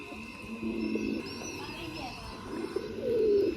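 Soft pigeon coos rise near the end over a low rumble, with faint background chatter and occasional distant bird calls.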